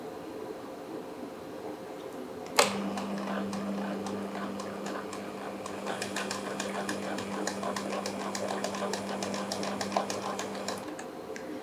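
A sewing machine stitches dori piping onto a kameez, starting with a sharp clunk and then running as a steady close hum with rapid needle ticking that stops near the end.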